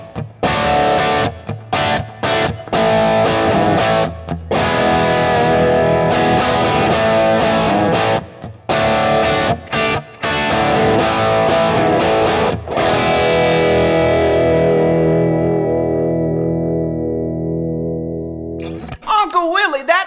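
Electric guitar through a Kemper amp with a thickener effect added, thick distorted chorused chords and notes played loud and close, ending on a long fading sustained chord.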